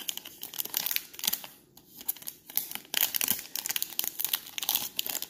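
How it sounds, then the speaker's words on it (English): Foil trading card fat pack, a 2019 Series 2 pack with a hanger, being torn open up close, giving bursts of crinkling and ripping with short pauses between them. "the first thing I'm going to rip is this 2019 Series 2 Fat Pack"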